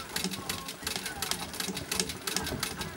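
A vintage treadle sewing machine stitches free-motion embroidery with a steady, rapid mechanical clatter in an even rhythm, fairly close, while a person talks over it.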